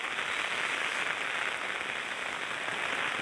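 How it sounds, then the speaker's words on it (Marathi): Very heavy monsoon downpour in Waghera village near Trimbakeshwar during flooding: a dense, steady roar of rain hammering down continuously, loud and close, with no voices. "अति मुसळधार पाणी पडतोय."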